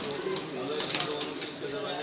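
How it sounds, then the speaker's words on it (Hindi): Madrasi Kalsira pigeons cooing softly amid a noisy, busy background, with people's voices mixed in. "ये मंद्रासी कलसिरा कबूतर है भाई"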